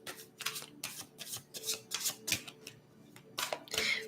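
Tarot cards riffled and handled in repeated bursts during a reading, crisp papery shuffling strokes close up and fairly loud, with a short pause before a final flurry.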